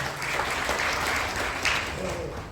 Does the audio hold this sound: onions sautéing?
no